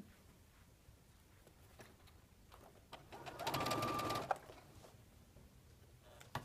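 A sewing machine stitching small quilt block pieces using the stitch-and-flip method gives one short run of about a second, moderately close, amid faint handling taps and a quiet room.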